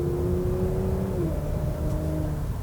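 A 2021 Porsche Macan Turbo SUV with a 2.9-liter twin-turbo engine hums under load from inside the cabin, its pitch climbing steadily and then dropping as a gear shifts, a continuous and moderately loud drone.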